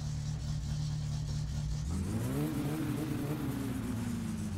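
A damaged car stuck in mud in My Summer Car, with its exhaust torn off, idles steadily and then revs up into a rising, sustained engine whine as the wheels spin without grip.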